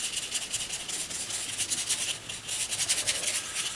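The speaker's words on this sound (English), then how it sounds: "Just scrubbing it around to give it a soft edge." Paintbrush scrubbing acrylic paint on canvas to soften the edge of a painted boulder, a steady close-up rasping swish that continues without pause, with no talking.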